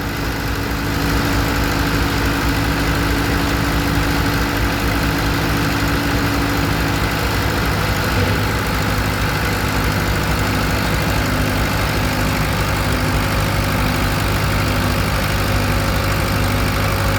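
A Case 400 gas tractor engine runs steadily on a dynamometer with a new exhaust pipe, a loud, continuous low idle-like drone that holds unbroken and alone for the whole stretch.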